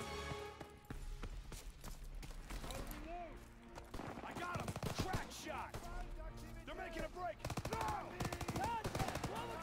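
Browning machine gun fire in the Call of Duty: WWII campaign, set in Germany's Hurtgen Forest, rattles in dense rapid bursts over game music and battle noise, with someone talking over the shooting.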